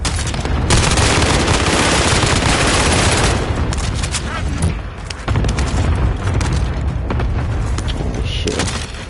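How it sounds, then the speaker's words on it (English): A cluster strike rains down in Call of Duty Warzone, a dense, loud barrage of booms and rapid blasts pounding almost continuously for several seconds, with a brief dip midway before the pounding resumes. "Allied cluster strike arriving"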